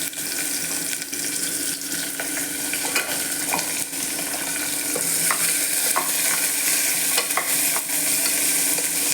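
Onion and green chilies frying in a pan with steady crackling sizzle and occasional stirring scrapes, mixed with sounds of running water from a tap nearby, with no talk.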